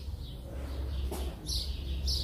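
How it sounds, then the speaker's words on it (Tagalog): Several birds chirp in a village flower garden, with short bright calls rising above a low background rumble. The tweets come in a few clustered bursts, moderately close. "Ang daming ibon."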